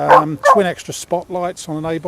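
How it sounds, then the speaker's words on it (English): A dog barks in a run of sharp, close yaps and yips while someone talks over the noise. "Sorry about the dog barking as usual."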